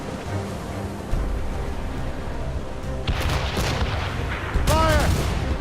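Ship cannons fire in a sea battle in Assassin's Creed Rogue: several heavy booming blasts land over a constant roar of wind and water, and a shouted voice rises near the end.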